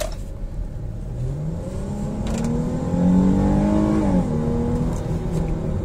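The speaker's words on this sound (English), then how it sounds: "I'm gonna try to get a shot right now of the throttle when we accelerating" A 2019 Chrysler 300S V6 fitted with a Wind Booster throttle controller accelerates. Its engine drone climbs steadily in pitch, then drops off near the end. The sound is loud and close, with no talking.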